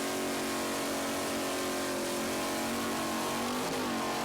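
A racing powerboat engine at an offshore race in Islamorada, with an A-Class boat in the field. It gives a loud, steady droning roar with a dense harmonic whine and a brief rise and dip in pitch near the end.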